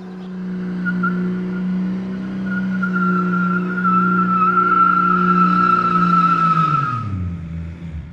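A car skids and squeals its tires while being driven hard, a loud sustained engine drone with a steady tire screech that holds for several seconds, then winds down and fades as the car slows.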